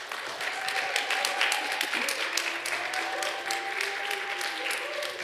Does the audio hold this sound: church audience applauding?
yes